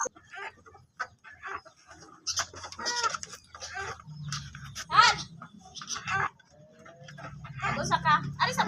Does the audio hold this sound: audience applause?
no